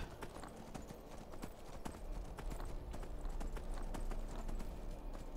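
Rapid hoofbeats of a horse in Skyrim Special Edition clip-clop in a fast galloping rhythm, with game ambience behind them.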